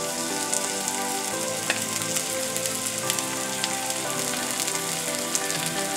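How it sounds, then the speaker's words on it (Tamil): Radish paratha frying in a generous amount of oil on a dosa tawa, giving a dense, steady crackling sizzle that stays close and even throughout, with no talking. "இப்போது நம்ம இதில் வந்து ஒரு பரோட்டாஸை நல்லா ஒரு பரோட்டா போட்டு கொஞ்சம் எண்ணெய் வந்து கூடுதலாக சேர்த்துக்கோங்க"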